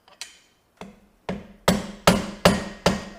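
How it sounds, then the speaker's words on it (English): A hammer strikes a screwdriver to loosen a driveshaft center bearing, delivering about seven sharp metallic taps that start light and spaced out, then come louder and evenly paced, close by with no talking. "I hit that with the screwdriver and hammer"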